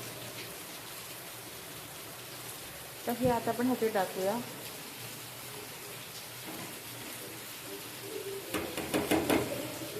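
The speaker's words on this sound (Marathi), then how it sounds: "व्हिडिओमध्ये तुम्हाला आवाज येत असेल की किती भरपूर पाऊस पडतोय बघा" Steady broadband rain hisses throughout during a Konkan monsoon cooking session, with a voice speaking briefly over it twice.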